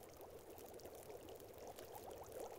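In The Long Dark survival game, water pours in a steady soft trickling stream, an even, faint, continuous gurgle with no speech over it.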